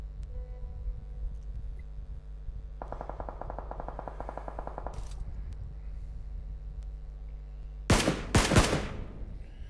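A rapid burst of automatic gunfire in a video game chatters for about two seconds mid-clip, followed later by a couple of louder, sharper impacts against a steady background hum.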